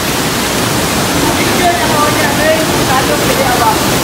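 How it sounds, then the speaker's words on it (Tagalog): Steady, dense roar of Pasalan Falls, a waterfall at Silab, Amlan, with broadband rushing water filling the scene continuously and faint shouts or voices rising through it. "So nandyan na po yung falls mga ka-adventure."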